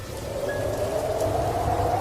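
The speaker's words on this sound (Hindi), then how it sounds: "जितनी तेज बारिश, उतनी ही तेज हवा, बीच बीच में बिजली की चमक" Heavy rain falls with strong wind in a steady, loud, unbroken wash, with no thunder or voices, suited to a horror story.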